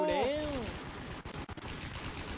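Gunfire crackles in the video game Warz as rapid, close bursts of shots, with voices and game sounds over the first moments and brief gaps between volleys.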